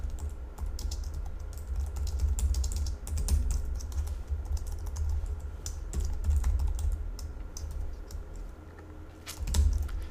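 Fingers type code on a computer keyboard, entering string names into an array: a rapid, close run of key clicks with brief pauses and a few heavier strikes.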